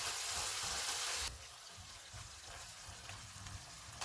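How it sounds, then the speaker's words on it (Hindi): Ketchup and soy sauce sizzling in a pan for Gobi Manchurian sauce, a steady crackling fry that is louder at first, then settles into a softer, continuous sizzle with no talking. "इनको 1 मिनट तक भूनेंगे।"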